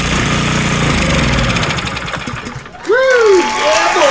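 An Ariens snowblower engine fires on carburetor cleaner and runs in a loud, rough, rapid chug for a couple of seconds before fading out. A man then lets out an excited whooping shout.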